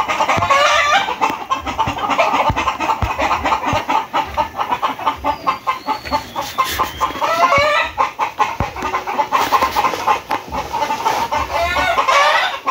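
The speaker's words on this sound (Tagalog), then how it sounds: "Medyo maingay ang ating manok." Backyard chickens cluck continuously and loudly, a busy flock with overlapping calls and occasional higher squawks, close by throughout.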